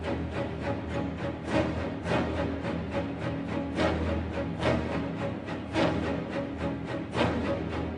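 An excerpt of Stravinsky's Rite of Spring plays as dense, loud orchestral music with pounding irregular accents across a thick full-range texture, with no voices over it.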